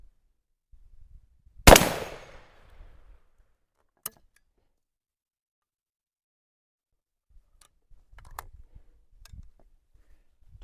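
A Western Auto shotgun fires a single loud, sharp blast outdoors at a target about 20 yards off, its report decaying over a second, followed by a faint click and quiet handling noises.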